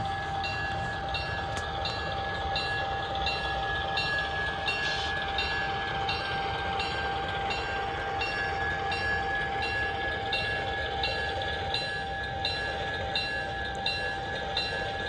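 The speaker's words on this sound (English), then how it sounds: "the locomotive is going to pull forward with the 3 empties we're going to swap out" A garden railroad model locomotive runs steadily outdoors while switching cars at a coal siding, a continuous rolling hum with faint rhythmic clicking and a sustained tonal whine, no talking.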